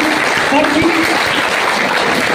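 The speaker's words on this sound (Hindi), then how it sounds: "ताली जोर से बजाइए।" Students clapping at a school result announcement at MBTA Islamia +2 School in Katihar, a steady dense wash of applause throughout, with voices mixed in.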